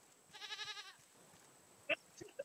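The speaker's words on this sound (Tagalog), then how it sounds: "Oh, may goat." A goat in the video game RAFT gives one wavering, vibrato bleat, moderately loud and alone, followed by a few short faint clicks and knocks.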